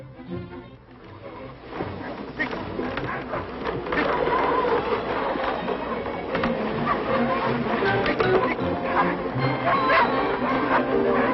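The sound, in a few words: sled dogs barking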